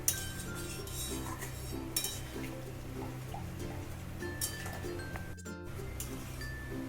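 Vegetables, including paneer, potato and cauliflower, are stirred in a pan with a utensil, giving steady scraping and clinking with a few sharper metallic clicks over a constant low hum and no talk.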